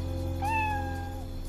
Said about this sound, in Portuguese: Você não tá ouvindo o miado, Cirilo?